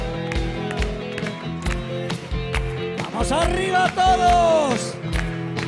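An audience at a carnival gala in Asturias claps steadily alongside rhythmic music with a thumping beat, the applause swelling toward the end while a presenter calls out over it.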